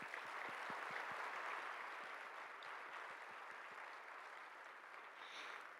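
Audience at a spring gala applauds the volunteers with sustained, dense clapping that holds steady throughout, a broad wash of many hands at moderate distance with no voices standing out.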